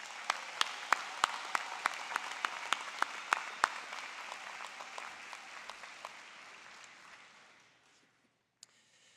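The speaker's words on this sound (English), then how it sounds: "Go ahead and give yourselves a round of applause." Graduates at a University of Illinois College of Medicine spring commencement applaud themselves, with loud, sharp claps standing out from a steady wash of crowd clapping that gradually thins and fades away to near silence.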